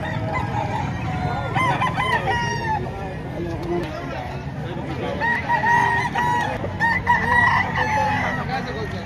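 Roosters crow repeatedly amid clucking fowl at a busy gamefowl market in Padre Garcia, Batangas, with people talking throughout in a crowded, noisy open-air setting.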